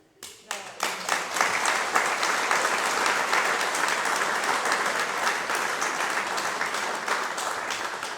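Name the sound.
audience applause at book presentation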